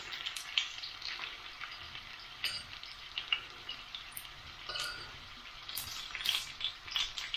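Sage leaves, stalks removed, fry in hot oil with a soft, steady sizzle. Scattered sharp crackles and pops rise above it throughout.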